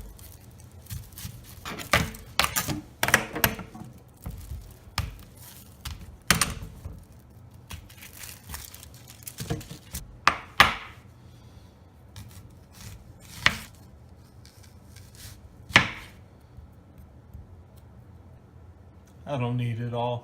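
A knife chops an onion on a cutting board while corn chowder is prepared for an Instant Pot: scattered, irregular knocks and short rapid runs of cuts, fairly close, with a person talking between strokes.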